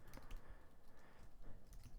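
Close computer keyboard being typed on while writing code, with a quick run of soft clicky keystrokes in uneven bursts, fairly quiet, with no voices.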